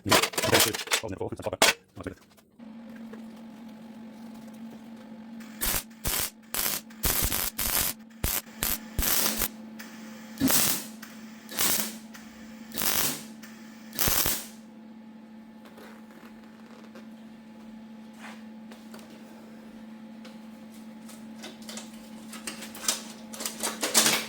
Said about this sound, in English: So I'll keep welding.